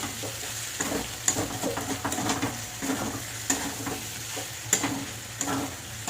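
Potato curry simmers and is stirred in a pan, with a steady soft sizzle broken by repeated scraping and clinking strokes of a spoon against the metal, close and moderately loud, with no voices.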